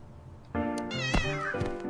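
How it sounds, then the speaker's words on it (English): A ginger kitten found in a garden gives one drawn-out, close, fairly loud meow with a rising then falling pitch and a slight catch in the middle. "Found a ginger kitten in our garden."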